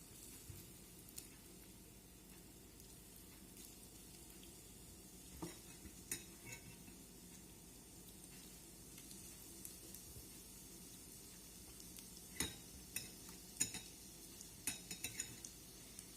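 Sliced potatoes fry in egg in a pan over a raised gas flame, a steady low sizzle running throughout with occasional scrapes and clinks of a utensil against the pan.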